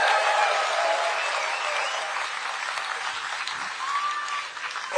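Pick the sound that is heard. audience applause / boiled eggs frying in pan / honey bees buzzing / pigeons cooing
audience applause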